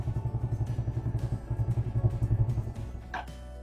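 Motorcycle with a fuel-injection system idling in a steady low pulsing rumble, then switched off, the engine throbbing fading out near the end, close and alone.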